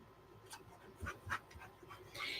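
A dusty dog, just in from rolling outside in the sun, pants quietly at close range in short rhythmic bursts of breathy huffs, with no talking.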